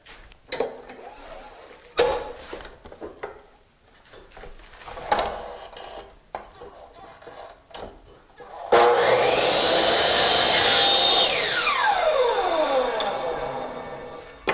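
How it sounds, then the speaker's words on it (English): A power saw cuts a 45-degree angle in a piece of window trim: quiet handling sounds first, then a loud burst of saw noise lasting several seconds, ending in a falling whine as the blade spins down. "we're going to put a 45 on this piece of trim"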